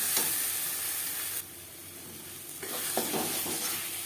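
Taro leaf paste and chili being stirred in a hot pan over high flame, giving a continuous close sizzle with scraping stirs that briefly quiet down and then return, no talking.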